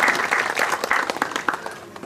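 At the opening ceremony of a forest reserve festival, an outdoor audience applauds an arriving guest, dense steady clapping that thins slightly as it goes on.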